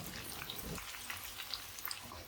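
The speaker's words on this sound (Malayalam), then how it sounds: "ഇനി നമുക്ക് ഒരു പത്ത് പന്ത്രണ്ട് അല്ലി ചതച്ച വെളുത്തുള്ളി ഈ എണ്ണയിലേക്ക് ഇട്ട് കൊടുക്കാം" Crushed garlic, ten to twelve cloves, frying in oil in a pan gives a faint, steady sizzle with soft crackling pops throughout.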